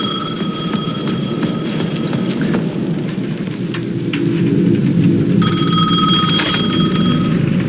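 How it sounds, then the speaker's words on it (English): Repeated electronic ringing tones from a payphone at the edge of a plaza in the video game Alan Wake 2, in bursts over a steady rumbling rain-like wash, no talking. "The payphone at the edge of the plaza was ringing again."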